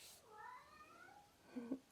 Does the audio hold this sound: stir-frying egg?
no